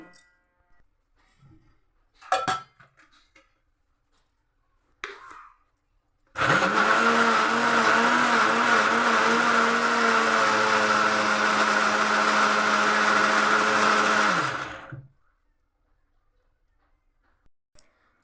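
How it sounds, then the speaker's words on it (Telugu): A few clicks and clatters, then a mixer grinder grinding soaked urad dal whirs loudly and steadily for about eight seconds before cutting off. "ఇప్పుడు నానబెట్టుకున్న మినపప్పుని మిక్సీలో వేసుకోండి"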